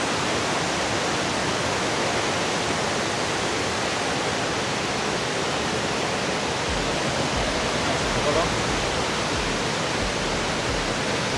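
A waterfall near Rome roars as a steady, loud, dense rush of falling water, unbroken for the whole stretch with no voices.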